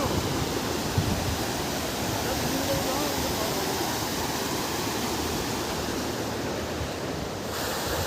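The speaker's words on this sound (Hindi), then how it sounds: "पानी बहुत है यार।" Floodwater from heavy rain rushes past an eroded road beside a bridge, a loud, continuous roar of churning water with no breaks across the whole stretch.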